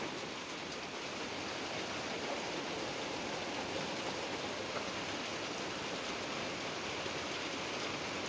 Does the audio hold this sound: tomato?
no